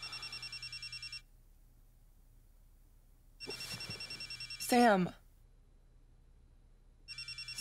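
A telephone bell rings in repeated bursts, pausing between rings, with a voice speaking over a brief burst of noise in the middle, all set in a horror film scene.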